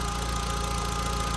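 After PCV removal, a car engine idles with steady revs: a close, even, low throb with regular pulses and no fluctuation, briefly and without talk.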